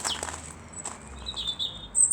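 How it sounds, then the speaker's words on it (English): A small garden bird perched nearby on a chilly autumn day gives a few bright chirps, faint and intermittent against a quiet outdoor background. "chirping away."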